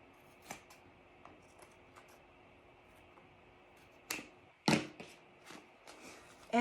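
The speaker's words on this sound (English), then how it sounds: "just with a pair of scissors" A few sharp, crisp scissor snips trimming fabric ring out near the end, preceded by scattered light clicks and handling sounds, with no voices.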